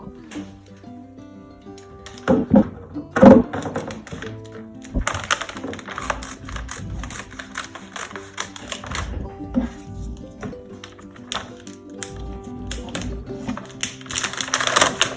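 Scissors snip and crackle through the packaging of a Doms Art Strokes kit box, giving sharp irregular cuts and rustles at close range, with a louder burst of cutting in the middle.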